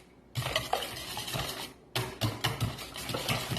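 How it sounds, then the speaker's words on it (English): Eggs being mixed in a bowl for a pizza rustica filling, with bursts of rapid whisking and clinking against the bowl, separated by a short pause. "So let's mix up the eggs."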